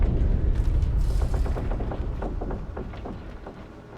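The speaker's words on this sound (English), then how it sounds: "I'm going to get the old flashbang out" A flashbang goes off in the video game Alan Wake with a loud, booming burst followed by a scatter of crackling, rattling impacts that gradually fade.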